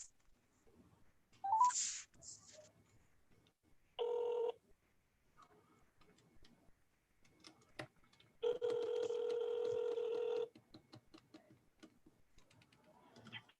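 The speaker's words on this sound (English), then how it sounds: "I'm dialing the phone now." Touch-tone telephone keypad dialing, a few short beeps followed by a longer steady run of tones, clear and close in a quiet room with no talk.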